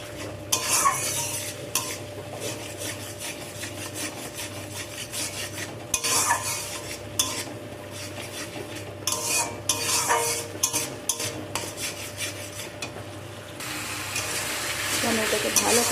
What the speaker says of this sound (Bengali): টমেটোকে ভালো করে এখানে নাড়াচাড়া করে কষিয়ে নিতে হবে যাতে টমেটোটা কাঁচা গন্ধ না থাকে।